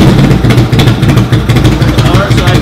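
A Harley-Davidson motorcycle engine with stock H-D controls idles in neutral after starting, a loud, close, steady low rumble throbbing in a regular pulse throughout.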